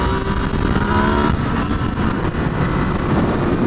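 Motorcycle engine revving hard to lift a wheelie: a loud, steady, close engine roar that holds throughout with slight shifts in pitch and no talk.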